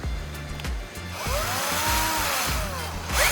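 A power tool trims and shapes a recycled battery core, a steady buzzing whine with a repeating low pulse and a rising, falling tone as the cutting load changes, close and continuous.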